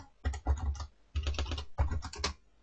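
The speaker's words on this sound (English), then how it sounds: "I'm going to type in" Keys clatter on a computer keyboard in three quick bursts of typing, close and fairly loud, with short pauses between them while a query criterion is entered in Microsoft Access.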